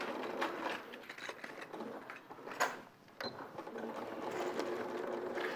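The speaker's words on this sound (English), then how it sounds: "So now, so you're top stitching across what will be the top of the pocket." A domestic sewing machine runs in bursts while top stitching across the upper edge of a pocket, a soft rapid mechanical whirr with brief pauses, heard close and fairly quiet.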